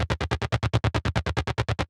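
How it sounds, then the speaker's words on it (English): Dry Omnisphere synth patch with its effects removed: a driving, plucky, slightly distorted sound. Rapid staccato notes repeat evenly, about nine per second, clear and up front for under two seconds. "just almost like a driving plucky type of"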